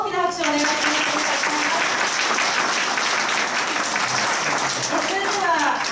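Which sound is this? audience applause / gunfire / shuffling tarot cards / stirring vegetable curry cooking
audience applause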